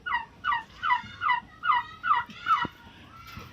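A turkey tom gobbles in a rapid series of seven or eight loud, warbling bursts at close range, each bursting call evenly spaced in a steady rhythm, with no talking.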